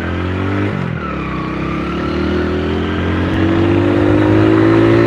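A Honda Win 100 cc motorcycle engine runs loud and close, its pitch dipping briefly and then climbing steadily as the throttle opens, with a rising whine over a throbbing low exhaust note and no talking.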